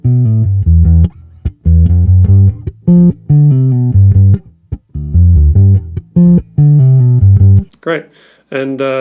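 A bass guitar is recorded through an Apogee Jam+ interface into Logic Pro X, playing a clean, direct run of deep, round plucked notes in a steady, choppy rhythm with short gaps, followed by a brief burst of talking at the end.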